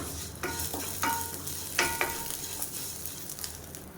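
Curry leaves roasting in a pan for thovayal, with crackling sizzle and scattered stirring scrapes against the pan, close and steady, with no talking.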